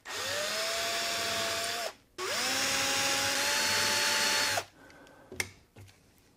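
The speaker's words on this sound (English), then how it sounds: "just to dimple here so that I know where to drill my pilot hole" A power drill whines in two sustained bursts while dimpling wood for a pilot hole, its pitch rising as it spins up, followed by a few faint clicks and taps.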